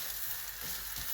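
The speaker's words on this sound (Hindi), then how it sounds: "नान फ्राई कर लूँ मैं अब ज़रा।" Naan frying in a pan makes a soft, even hiss of hot oil, steady and fairly quiet, with a faint low rumble beneath and no voices.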